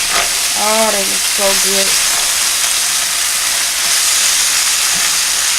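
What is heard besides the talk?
stirring orange peppered chicken and rice in a sizzling pan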